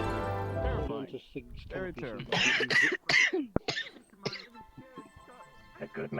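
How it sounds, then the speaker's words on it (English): Several sharp coughs and throat clearing from a character in a VRChat roleplay cafe, scattered bursts between stretches of speech. "I hope you are okay with your coughing"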